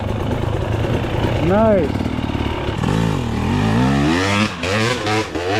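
Dirt bike engine revving and throttling hard on a loose, steep hill, rising and falling in pitch close by, with a brief spoken remark over the engine.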